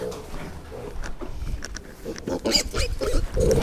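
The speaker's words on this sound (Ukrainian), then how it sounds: "це поросята двох свиноматок" Piglets from two sows squeal and grunt as they fight in a rough scuffle, sharp shrieks rising toward the end amid general barnyard noise.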